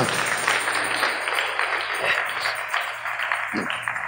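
A church congregation clapping hands together in a dense, continuous patter, fairly loud and steady throughout, with a faint hum beneath.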